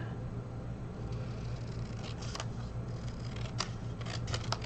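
Scissors snip along the score line of a paper lantern, quiet clipped cuts over a low steady hum, a few sharper snips near the end.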